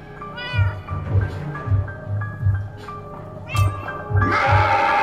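A cat meows repeatedly in Minecraft: Story Mode, loud close meows and drawn-out wails over a rhythmic low thumping game score, ending with a burst of brighter noise.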